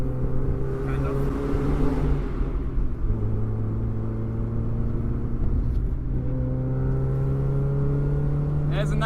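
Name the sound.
modified Mazda MX5 NA Miata engine revving while driving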